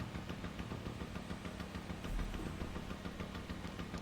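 A small single-cylinder boat engine idles in Farming Simulator 17, putting out a steady, rapid chugging pulse at moderate loudness with a slight swell midway.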